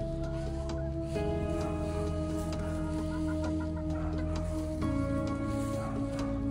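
Gray gamefowl chickens around seven months old cluck and murmur close by in a pen, soft overlapping calls over steady low background hum, with no voices.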